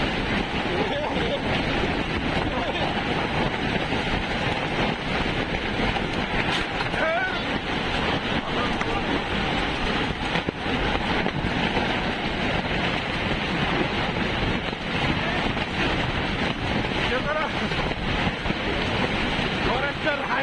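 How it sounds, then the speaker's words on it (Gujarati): Strong storm wind blowing over a papaya field in Palanpur taluka, a constant loud roaring rush buffeting close by for twenty seconds, with voices talking underneath. "ભારે પવન હતી, વાવાઝોડું જોરદાર"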